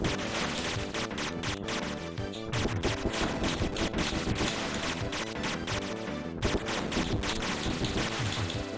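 Dense, continuous blasts from main shots and missiles in a 3D sci-fi SNES video game, with rapid, rhythmic firing that carries on nonstop under game music and breaks only for brief moments.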